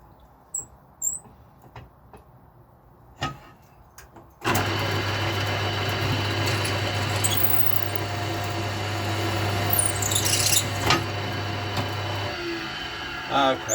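Quiet knocks give way to a power drill whirring steadily and loudly for several seconds as it bores into a Les Paul-style guitar body of wood, then stopping.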